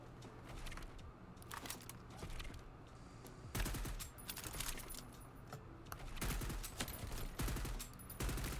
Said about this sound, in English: See, it's firing now.